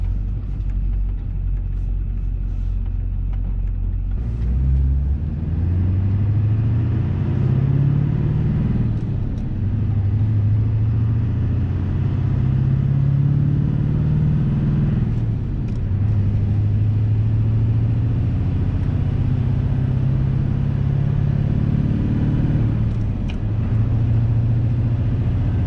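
A Duramax diesel pickup fitted with a South Bend organic dual disc clutch and ZF6 manual gearbox drives along, a steady loud engine drone and road rumble, the pitch rising and falling through gear changes, no talk.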